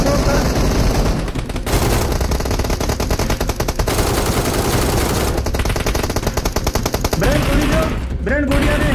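Rapid automatic gunfire in the video game PUBG Mobile rattles in loud, dense bursts with short gaps, and a voice talks briefly near the end.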